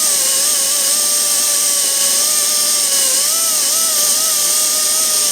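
A high-speed dental drill bur whines steadily while finishing the margin of a tooth preparation for a metal-ceramic crown, holding a continuous shrill pitch that wavers slightly.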